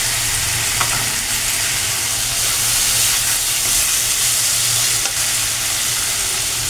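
Taro leaves and chickpeas sizzle steadily in hot oil in a pan, a loud, continuous frying hiss with faint stirring knocks and no voices.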